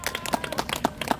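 Scattered clapping from a small audience at a Korean political rally, a few distinct claps spaced irregularly over about a second, fairly faint.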